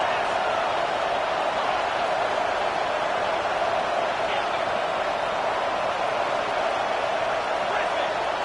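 Stadium crowd in College Football 25, a dense, steady roar of cheering filling the whole stretch at a constant level, with a commentator's voice talking over it.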